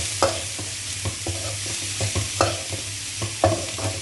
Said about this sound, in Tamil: இப்போ இதை நல்லா வதக்கிக்கோங்க